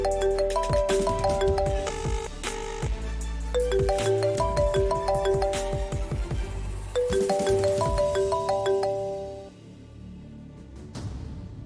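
A mobile phone rings unanswered with a melodic ringtone during a Tamil TV drama scene. The tune repeats steadily and fairly loudly over musical backing for about eleven seconds, with no one speaking.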